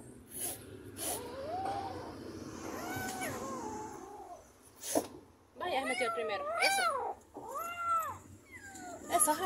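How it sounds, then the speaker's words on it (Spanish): Abandoned cats being rescued meow and yowl repeatedly up close, rising and falling in strained cries, mixed with snorts and breathing while people talk nearby. "estos gatos van a estar un poco difíciles de llevarlo"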